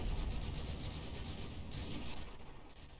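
Missiles and gunfire rage in a battle between airships in the naval combat game From The Depths, a dense continuous roar of blasts and shots that stays loud for most of the stretch, then thins out near the end.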